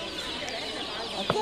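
Chickens at a poultry fair market in Montichiari, Italy, with a single short cluck near the end rising over a steady murmur of crowd noise.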